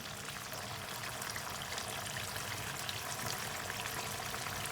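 Water pours steadily from a glass into a cooking pot of taro and meat, a continuous close splashing hiss with no pauses and no talk.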